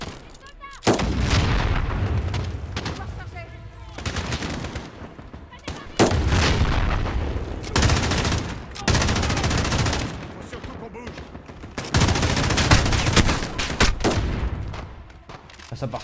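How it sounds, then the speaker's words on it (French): Sustained machine gun fire in Call of Duty Modern Warfare, loud heavy bursts of rapid shots with booming impacts, broken by short pauses, with occasional voices underneath. "ça part trop vite les munis que cette mitrailleuse"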